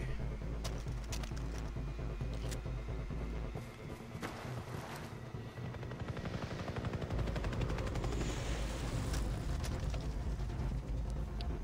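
A helicopter in the Far Cry 3 video game thrums steadily with low rotor noise over about twelve seconds, mixed with bursts of gunfire and sharp cracks, a busy in-game combat soundscape.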